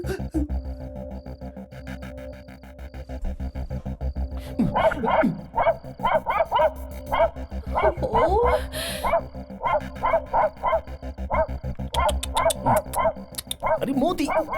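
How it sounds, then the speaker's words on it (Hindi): A dog barks in a rapid, repeating series of sharp yelps, close and loud, over a steady musical and ambient bed with voices in the background. "ये कुत्ता वहां देखकर भौंक क्यों रहा है?"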